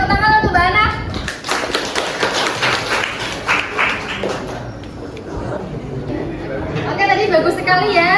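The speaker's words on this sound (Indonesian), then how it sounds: "Oke, tepuk tangan untuk Mbak Ana." A classroom group claps for a classmate named Ana after her turn, giving a short burst of scattered hand claps and taps mixed with lively chatter and children's voices, with clearer speech returning near the end.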